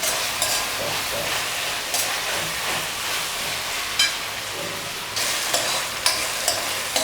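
Ginger garlic paste sizzles and fries in a pan for mutton masala curry, a continuous loud hiss broken by several sharp scraping strokes of a spoon stirring.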